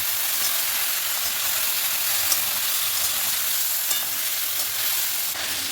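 Turmeric, chilli powder and green chillies fry with a splash of water in a hot pan, giving a steady bubbling sizzle with faint stirring scrapes and occasional soft clicks, with no voices.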